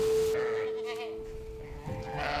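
Goats and sheep bleat inside a stable on a farm in the Langhe, with a steady hum running beneath a few wavering calls at moderate distance.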